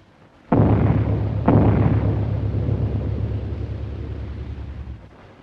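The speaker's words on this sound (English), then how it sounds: "Sechs Bomben! Sechs Bomben!" A heavy bomb blast booms, then a second explosion follows about a second later, and both roll into a long, loud rumble that slowly fades, as bombs dropped from an aircraft detonate in a 1930 World War I air film.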